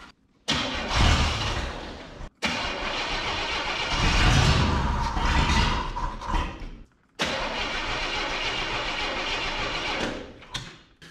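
A 1980 GM El Camino long left in a field, with a suspected faulty ignition module, cranks and catches to a rough rumbling idle, dies, then restarts and runs close and loud.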